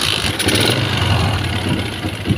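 A motorcycle engine fitted with a new spark plug is started and settles into a loud, steady idle, close and continuous for a few seconds.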